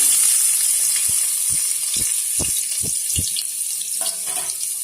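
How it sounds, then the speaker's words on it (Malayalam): Crushed ginger, black pepper, garlic and onion fry in hot oil with a continuous bright sizzle, punctuated by a series of six soft, evenly spaced taps or stirring knocks. "ഇതിനകത്തേക്ക് ചതച്ചു വെച്ച ഇഞ്ചി, കുരുമുളക്, വെളുത്തുള്ളി, ഉള്ളി ഇത്രയും സാധനം നമ്മൾ ഇതിനകത്തേക്ക് ആഡ് ചെയ്ത് കൊടുക്കുവാണ്"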